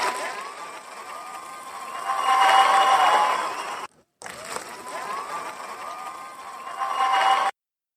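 Applause and cheering from a sound-effect button, a crowd clapping and whooping, played twice with a brief silent gap between bursts and swelling louder near the end of each.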